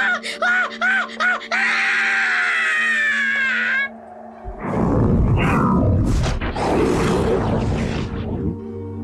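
A woman screams and wails in terror during a night-time horror narration about an aswang, with drawn-out, tonal cries followed by a louder, rough, chaotic burst of noise, all close and intense.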